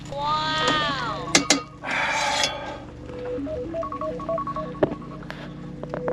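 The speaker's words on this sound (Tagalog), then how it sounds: "late yung aking telepono na nag-alarm" A mobile phone alarm goes off as a string of short, stepped electronic beeps in a repeating melodic pattern, heard near and clear over a low steady hum, with brief clatters and a sliding whistle-like tone near the start.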